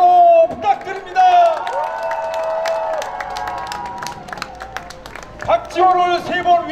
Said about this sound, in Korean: 박지원 후보께 감사의 박수와 환호 부탁드립니다